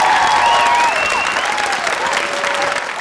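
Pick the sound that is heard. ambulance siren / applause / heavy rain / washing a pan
applause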